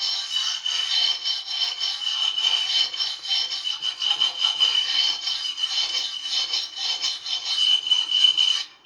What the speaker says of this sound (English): Okay, so I'm just going to clean it once more, just to make certain that I've gotten it really good.